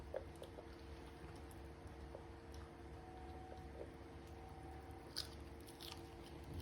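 A dog crunches on a crunchy treat, with faint, irregular bites and chewing under a steady low hum, quiet and close.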